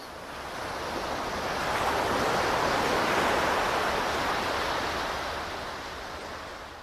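Ocean waves wash in as a broad hissing surge that swells gradually to a peak in the middle and then recedes, steady and fairly loud with no voices.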